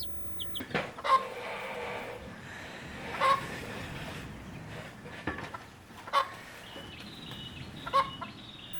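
Several soft, brief clucks from hens, spaced a few seconds apart, faint and distant over quiet outdoor background noise in North Bali.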